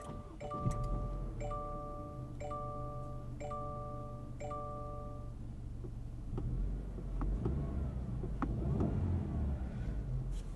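Inside a 2020 Subaru Legacy Touring XT: a series of evenly spaced electronic chimes first, then a steady low engine and road rumble while the car drives, with no talk.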